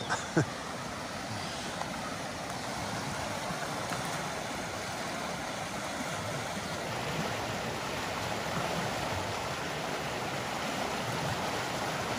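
A river flowing past an old cottonwood log, a broad steady rush of moving water with a faint breeze, even and continuous throughout, with no talk.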